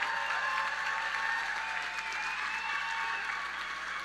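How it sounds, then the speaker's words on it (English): Steady, even applause from a large audience at a 2025 Phoenix High School graduation ceremony honoring the superintendent, a continuous wash of clapping at moderate distance with no voices over it. "Let's give him a round of applause"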